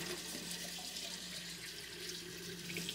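Tap water runs steadily into a kitchen sink while a pot is rinsed off under the stream, a constant close splashing hiss with no one speaking.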